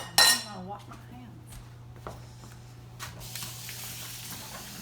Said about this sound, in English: So now that I've chopped that up, I'm gonna stir.